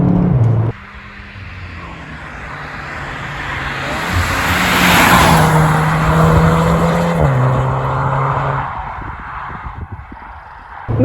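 A VW Arteon R Shooting Brake accelerates hard on a wet, greasy road, its engine rising loud and sustained through gear changes with a broad hiss of tyre spray and rushing air, heard close from inside.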